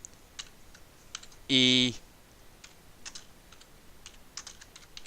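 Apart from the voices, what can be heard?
typing on a computer keyboard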